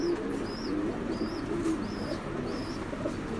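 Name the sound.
pigeons cooing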